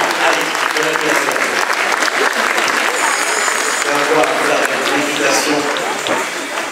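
A show-jumping audience at an amateur speed class over 1.10 m fences applauds a rider starting the course: a loud, sustained wash of many hands clapping throughout.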